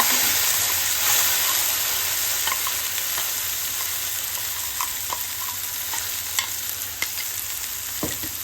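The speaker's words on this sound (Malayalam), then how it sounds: "ഇനി നമുക്ക് ഇത് അരച്ചത് ഇതിലേക്ക് ഇടാം." Ground tomato paste for chutney hits hot oil already holding spluttered mustard seeds, chillies and curry leaves, giving a loud, steady, close sizzle with occasional sharp pops and spoon scrapes throughout.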